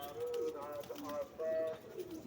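Soft, low pigeon coos repeat in short rounded phrases close by, with faint background noise between calls.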